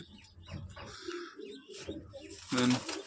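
A female pigeon with a leg tag gives soft, low cooing calls in short bursts, close by, with a louder coo near the end and human voices talking around it.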